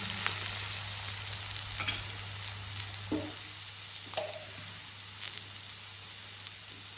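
Bitter gourd pieces fry in hot oil, a soft steady sizzle with a few sharper crackles and spatters scattered through, fairly quiet and without voices.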